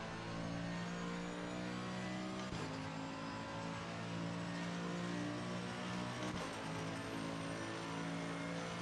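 Ferrari race car in Assetto Corsa Competizione during an esports charity race, its engine a steady droning tone with two brief dips like gear shifts, heard alone at a moderate, even level.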